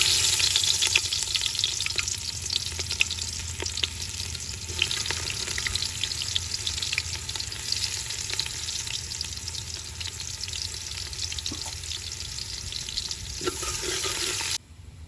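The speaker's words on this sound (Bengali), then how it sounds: "এই কুচানো পেঁয়াজগুলো আমরা ভেজে নেব।" Chopped onions frying in oil for a chicken gizzard biryani give a steady, close, loud sizzle with a faint bubbling edge. It runs unbroken for about fourteen seconds with no talking, then cuts off abruptly.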